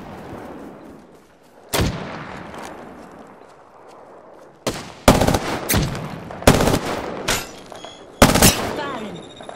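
Gunfire in the video game Apex Legends: one loud shot, then after a lull a dense run of heavy, close bursts and rapid volleys over low game ambience.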